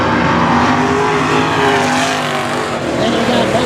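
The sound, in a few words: race cars racing in a 10-lap main event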